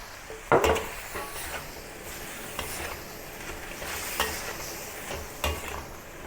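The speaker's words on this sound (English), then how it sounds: "Continue stir fry over high heat until the leaves start to wilt" Peas, baby corn and leaves for a Thai mixed-vegetable stir-fry are tossed over high heat, with a steady sizzle and a few loud, near scrapes and clanks of the utensil against the pan.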